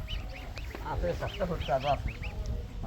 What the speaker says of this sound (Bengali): কি হাঁসের বাচ্চা এগুলো? রাজহাঁস কয়টা?